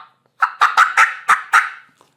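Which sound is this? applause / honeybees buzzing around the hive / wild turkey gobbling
wild turkey gobbling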